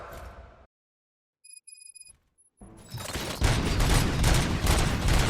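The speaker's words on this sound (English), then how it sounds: "Gunshots?" Robots open fire in the RoboCop: Rogue City video game, a dense continuous barrage of loud gunfire that erupts after a brief silence broken by electronic beeps.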